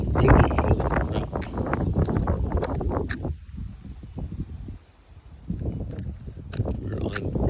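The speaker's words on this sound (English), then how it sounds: "it's windy. Holy crap!" Strong gusting wind blowing outdoors, a loud broadband roar buffeting the microphone that surges and eases, dropping briefly before building again.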